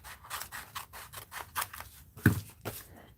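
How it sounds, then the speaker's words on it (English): Scissors snip through a strip of gold paper in a quick, quiet series of close cuts, with one sharper snap near the end. "I'm going to cut that gold strip off"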